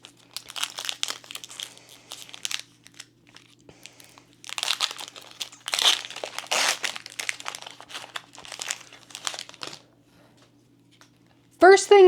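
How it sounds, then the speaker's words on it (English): A foil Disney Lorcana Archazia's Island booster pack is torn open and handled, giving close, loud bursts of crinkling and crackling foil with pauses between them, ending in a sharp rustle. "This is pack number 2 that I'm going to open out of the 8 that I got from this Trove box."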